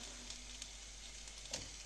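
Pâté melting in a hot frying pan while making navy-style macaroni gives a faint, steady sizzle with a few small pops, heard close and alone.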